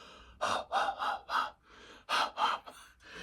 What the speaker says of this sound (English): the creepy, ethereal echoing of the breathing